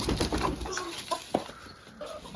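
Chickens cluck and murmur close by in short, overlapping bursts, with a busy, noisy barnyard background throughout.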